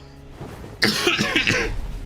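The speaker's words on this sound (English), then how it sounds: "Cough is sneaking up on me" A single rough cough with throat clearing, close and loud, following a quieter murmur of room noise.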